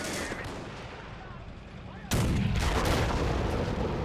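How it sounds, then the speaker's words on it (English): Incoming enemy artillery and gunfire in the Men of War: Assault Squad 2 war game, distant rumbling shots at first, then a sudden loud blast and heavy sustained firing that stays close and dense. "Enemy artillery coming in."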